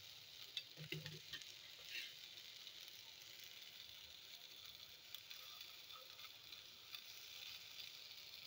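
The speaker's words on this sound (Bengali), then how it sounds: "এগুলো ভাজা হচ্ছে" Fritters made from sago batter with drumstick leaves fry in a little oil in a pan, a faint continuous sizzle with a few soft stirring clatters near the start.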